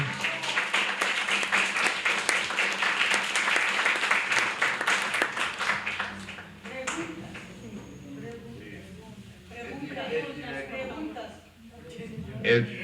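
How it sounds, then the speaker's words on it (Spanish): Steady applause from a crowd, dense clapping for several seconds that fades as a voice starts talking over it. "Un aplauso."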